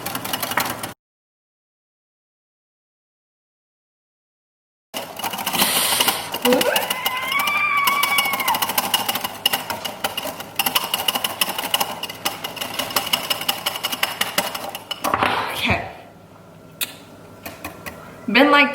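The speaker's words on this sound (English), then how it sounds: "Does anyone want to take turns whisking?" Dalgona coffee is whisked by hand in a rapid, buzzing rhythm that runs for many seconds after a brief silent gap, with voices talking over it now and then.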